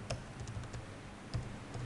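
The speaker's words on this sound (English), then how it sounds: "I'll type in the name of my product" Soft, quick keystrokes on a computer keyboard tap out a short irregular run of clicks, quiet and close, with no voices.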